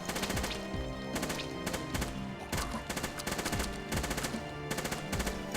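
Heavy assault rifle in the Hordelicious video game firing loud, rapid automatic bursts in a steady repeating rhythm, each burst separated by brief gaps.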